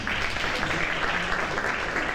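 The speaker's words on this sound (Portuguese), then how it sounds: "Mais uma salva de palmas." Sustained audience applause at a business talk event in Portugal's Algarve, a dense, even wash of many hands clapping that holds steady for the whole stretch, with a faint voice underneath.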